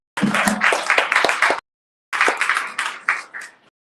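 Scattered hands clap at a LinkedIn networking meetup in Toronto, two short bursts of separate, distinct claps broken by a brief silence, close and moderately loud.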